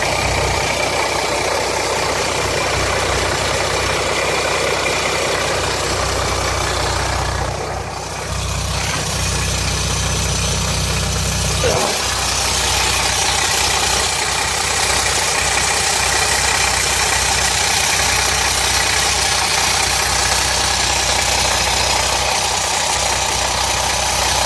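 A 2007 Jeep Grand Cherokee 3.0 CRD diesel idles with a steady, loud, continuous rattle and knock, close to the engine with its intake pipe loose, holding an even drone for the whole stretch with no voices.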